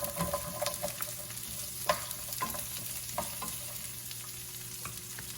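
Onion sizzles and crackles steadily in hot oil in a pan, with a few louder stirring scrapes and clinks over the continuous frying hiss; no talking.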